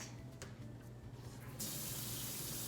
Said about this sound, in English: I'm taking the green one, I'm gonna rinse it.